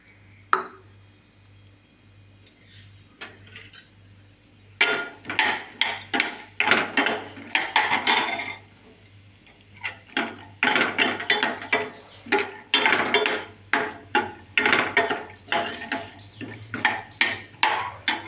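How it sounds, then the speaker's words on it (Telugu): Peanuts are tossed and stirred in two spoons of oil in a metal pan while making spicy puffed rice. Close, irregular bursts of rattling and metallic clinking come in quick clusters with short quiet gaps between them. "ఆ నూనెలో పల్లీలు వేల్చాలండి"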